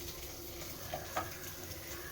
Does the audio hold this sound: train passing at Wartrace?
no